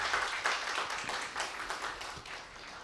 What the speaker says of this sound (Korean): 다시 한 번 더 큰 격려의 박수 부탁을 드립니다.